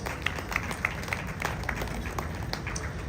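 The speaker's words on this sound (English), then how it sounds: "Shall we do a big round of applause?" Steady applause from a crowd at a live ceremony in Ghana, a dense patter of claps with a few sharper individual claps standing out, continuing throughout at moderate level.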